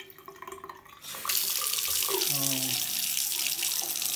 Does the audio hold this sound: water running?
yes